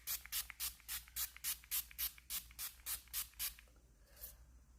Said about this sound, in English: So then we are going to set this all in with a setting spray.